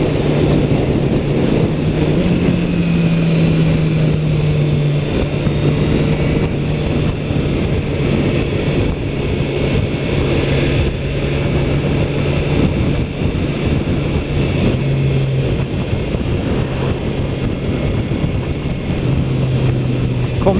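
Kawasaki H2 SX SE+ motorcycle riding along a curving road and shifting up through third, fourth and fifth with a quick shifter, a steady engine drone under heavy wind rush, the pitch stepping with each gear change.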